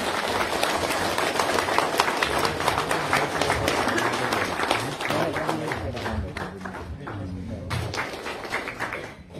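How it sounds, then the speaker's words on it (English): Hall audience at an honorary doctorate ceremony in Diphu, Assam, breaking into sustained, dense applause with rapid overlapping claps that fade slightly toward the end, mixed with crowd murmur. "I want everybody in the hall to give a huge round of applause."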